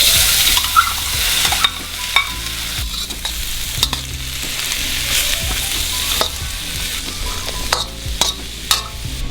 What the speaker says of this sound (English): I'm stir frying the meat and the mushrooms together